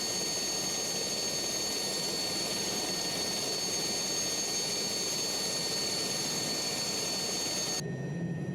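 An Alouette III SA-316B helicopter on floats runs its turbine engine in Microsoft Flight Simulator, a loud constant whine with high steady tones over dense rushing noise, cutting off abruptly near the end.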